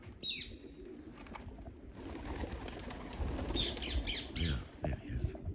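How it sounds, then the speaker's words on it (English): A parakeet calls from somewhere in a tree, giving repeated squawks and pigeon-like coos against a noisy outdoor background with some rustle. "Little Percy parakeet wants to be a pigeon."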